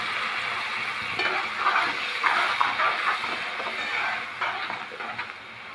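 Tomatoes hit a pan of lightly fried onions for fish in tomato sauce and set off a steady, close hiss of sizzling. Stirring scrapes and clatters underneath, with no talking.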